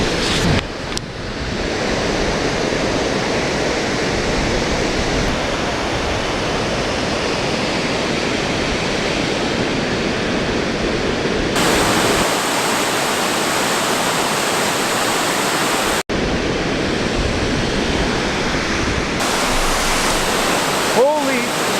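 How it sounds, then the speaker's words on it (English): A powerful waterfall near Hamilton roars as a loud, continuous wash of rushing water heard close, with wind buffeting the microphone and a few abrupt cuts in the recording. "Look at this waterfall! It is insane!"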